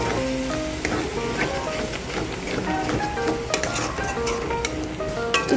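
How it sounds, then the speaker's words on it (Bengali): Pieces of fish are stirred with sour yogurt in a sizzling frying pan while making doi katla, a steady crackling fry with scraping and clinking of the spatula against the pan. "টক দই দিয়ে ভালো করে নাড়াতে হবে।"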